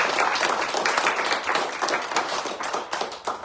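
A church congregation applauds, with dense, steady clapping from many hands filling the space throughout.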